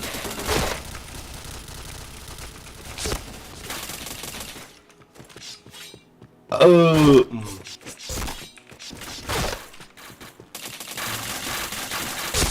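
Gunfire in the online shooter Point Blank, with bursts of rapid shots and sharp impacts across the match, separated by brief quieter gaps. Game announcer calls and player chatter sound intermittently among the shots.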